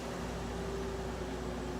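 A modern GE air conditioner running on its low setting gives a steady, even hum with a faint tonal drone, alone and unchanging throughout.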